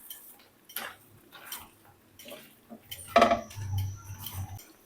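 Crushed black pepper and salt are mixed in a pan, heard as sparse, quiet clinks and scrapes of a utensil against the pan, with one louder knock followed by a brief low rumble.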